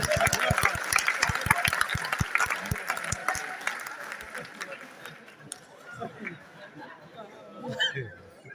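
An audience at a Hindi poetry recital claps in a loud, rhythmic unison beat that loosens and fades after a few seconds, leaving scattered claps and crowd murmur with voices talking.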